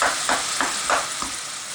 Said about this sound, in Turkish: Soğanımız kavrulana kadar ya da parçalıyoruz.